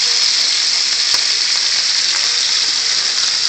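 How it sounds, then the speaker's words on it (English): Spring King salmon sizzling in a pan, a loud continuous close-up hiss of frying with faint crackles and no voices. "Sizzling Spring King"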